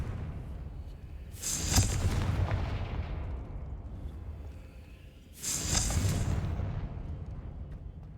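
Two booming fire-spell explosions from the Confringo curse in the Hogwarts Legacy video game, each a loud burst near 1.5 and 5.5 seconds that decays into a rumbling tail over a steady low game soundscape.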